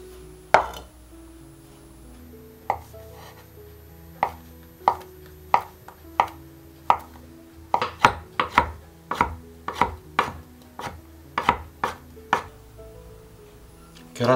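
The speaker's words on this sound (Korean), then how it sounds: "스팸도 잘게 다지듯이 썰어 주겠습니다." Knife finely mincing Spam on a cutting board, a run of sharp wooden chops that start sparse and then quicken into a rapid, fairly close rhythm, heard alone with no talk.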